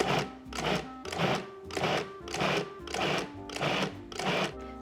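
A food processor pulses spinach-artichoke dip in short, regular bursts, about eight whirring pulses with brief gaps between them, loud and close with no talking.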